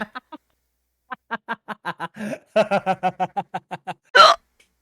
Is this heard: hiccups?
yes